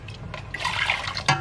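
A brief splash of plain water poured into a cooking pot for a mushroom and bamboo shoot curry, gurgling and running for about a second, near and fairly loud.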